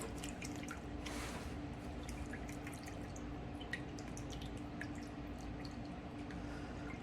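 Water-phase liquid for a rice water and chamomile foaming shampoo poured into a small container, a soft continuous trickle with faint drips over steady background noise, no talking.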